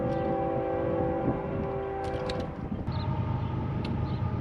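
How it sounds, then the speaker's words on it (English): A train approaching near a horse: a steady low rumble with a sustained horn-like tone that fades, then rolling mechanical noise with a few sharp high clanks, loud and close. "Okay, so the train is coming."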